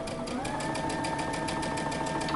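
A sewing machine runs steadily, stitching a seam with a fast, even mechanical rhythm and a constant motor hum. It sounds close and continuous with no pauses and no talking.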